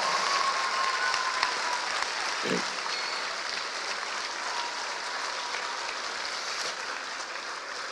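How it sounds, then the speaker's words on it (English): After a school production of the musical Matilda Jr in Dubai, a theatre audience keeps up sustained, even applause, a broad steady patter of many hands with a faint brief voice briefly audible. "Please give them a huge, huge round of applause."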